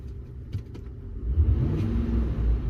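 A car engine rises from a low idle of about 600 rpm into a revving climb, a steady close rumble that swells in the second half with no talk over it.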